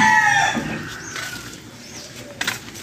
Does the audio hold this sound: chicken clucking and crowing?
yes